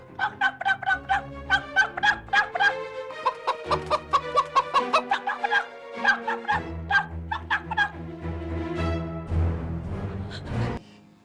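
Chickens cluck in a rapid, repeated series of sharp, close calls, some drawn out into longer cackles, with a low hum running underneath and no talking.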